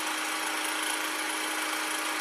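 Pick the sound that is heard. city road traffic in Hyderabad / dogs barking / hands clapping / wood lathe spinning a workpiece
wood lathe spinning a workpiece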